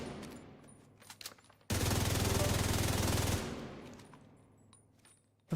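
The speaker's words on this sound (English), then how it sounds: "I'm still shooting!" Sustained automatic gunfire from The Division 2, a loud unbroken burst lasting nearly two seconds after a few scattered clicks, then fading into quieter background game noise.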